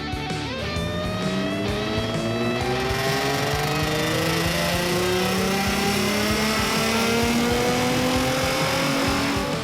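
A modified car's engine runs hard through a power test, its loud, close tone climbing steadily in pitch as it pulls through the revs for several seconds without letting up.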